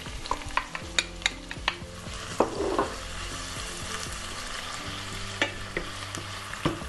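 Chopped red onion frying in heated oil in a bowl-shaped pan, a steady close sizzle broken by the sharp clinks and scrapes of stirring, with no talking.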